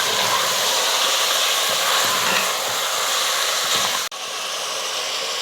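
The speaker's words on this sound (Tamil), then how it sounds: "ஒரு நிமிஷத்துக்கு சிக்கன் எண்ணெயிலே நல்லா வதக்கிக்கலாம்." Chicken frying in hot oil gives a loud, steady, close sizzle with faint stirring scrapes, briefly cut near the end before resuming. No one speaks.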